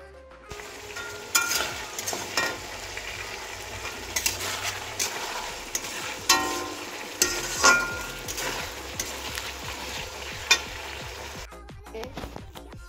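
Chicken skin, drumsticks and potatoes fry in a pan with a steady close sizzle, broken by repeated scraping and stirring clinks of a utensil against the pan.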